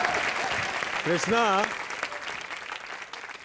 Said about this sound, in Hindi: सलमान मेरा दोस्त है इसके लिए जोरदार तालियां।